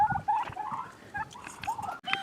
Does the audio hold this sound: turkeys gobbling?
yes